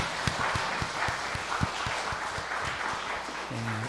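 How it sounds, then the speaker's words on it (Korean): Congregation applauding during a church praise service, a steady run of distinct hand claps that carries on for several seconds, with a sustained low tone entering near the end. "우리 하나님께 영광의 박수"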